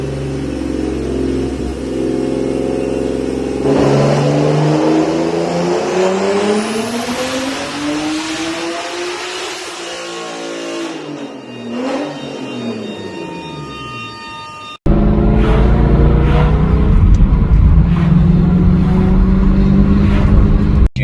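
An S52-swapped BMW 318is making about 600 wheel horsepower revs and accelerates hard, engine pitch climbing through the gears, dipping, then roaring loud and close inside the car; no one speaks.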